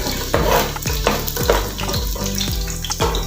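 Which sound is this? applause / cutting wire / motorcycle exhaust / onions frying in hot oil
onions frying in hot oil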